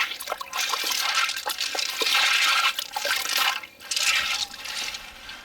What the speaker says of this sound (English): when it's ready, we just use clean water to just wash them